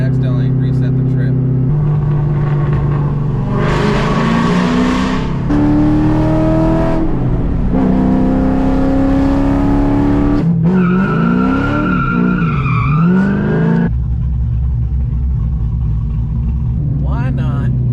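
A loud, lowered Corvette with a cammed engine is driven hard, its exhaust roaring and rising through gear changes with tire-squeal-like whines, close and constant, with a voice talking over it at times.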